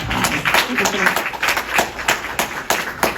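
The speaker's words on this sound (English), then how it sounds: "Please give Stacy a big round of applause." Applause at a happy hour Q&A and performance event, a small group clapping in loose, uneven bursts at close range, with voices mixed in underneath.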